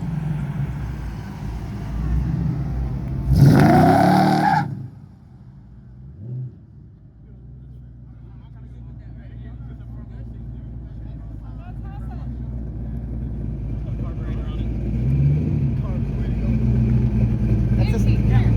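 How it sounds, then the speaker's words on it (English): Street race cars on a road in Mexico, one loud car sweeping past close by early on, then engines idling and revving up again in the background while people talk throughout. "Car coming."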